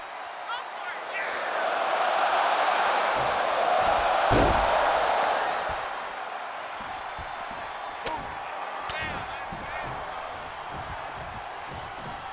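Wrestling arena crowd roaring during a Royal Rumble match, a loud sustained cheer that swells and then eases, with sharp slams and whoops cutting through and a commentator talking over it.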